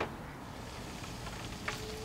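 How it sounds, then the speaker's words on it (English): Water sizzling and crackling faintly around a smoked brisket confit on a Kamado Joe Classic grill, a steady soft frying hiss with a brief sharper pop near the end, no voices. "You can hear that water kind of sizzling as it's burning out."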